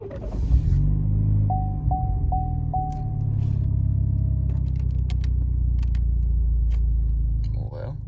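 A sixth-generation Camaro 2.0T engine with the muffler removed, heard from inside the car, turns over and settles into a loud, deep, steady rumble that fills the whole clip, with a few short whines near the start.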